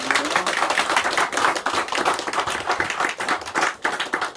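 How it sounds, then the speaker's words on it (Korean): A congregation at a Korean Sunday morning church service claps together in praise, producing thick, sustained, fairly loud clapping that fills the whole stretch without pause. "하나님께 영광의 박수를 올리겠습니다"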